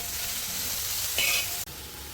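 Green chillies fry in oil in a pan with a soft, steady sizzle. Near the end a brief higher hiss flares up, then a sharp click, and the frying goes on quietly.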